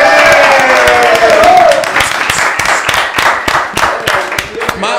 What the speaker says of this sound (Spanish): ¡Aplausos para Germán!